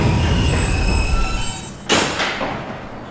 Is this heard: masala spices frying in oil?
no